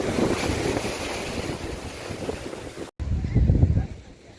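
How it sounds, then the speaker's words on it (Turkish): Rough sea water and wind buffet the microphone near Mudanya, with waves slapping against a moving boat; a brief dropout interrupts the steady, loud rush. "Dalga evet yine dalgalı. Çok dalgalı."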